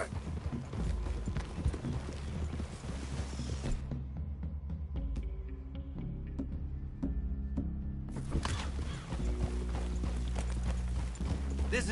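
Horses' hooves from Red Dead Redemption 2 clop steadily under a dense game soundscape, with low ambient rumble throughout and a quieter stretch midway where individual hoof knocks stand out more clearly.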